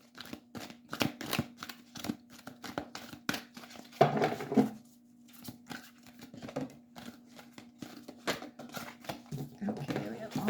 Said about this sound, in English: I'm just going to give it another shuffle here